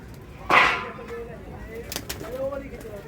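About forty pigeons held in a rooftop net enclosure, with young birds among them, give faint low coos in the background after a brief loud burst, while someone talks quietly nearby.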